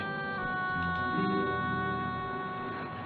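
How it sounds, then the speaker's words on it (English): A steady ambulance siren wail holds several sustained tones over a dense, continuous background drone, with no speech. "The ambulance."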